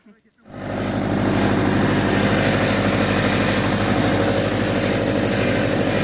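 A small tractor engine runs steadily and loudly close by, starting after a brief quiet moment and holding an even, continuous drone throughout.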